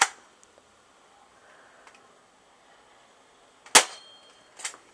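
An airsoft gun is cocked, making sharp mechanical clacks in a quiet room: one at the start, a louder snap later, and a softer click just after it.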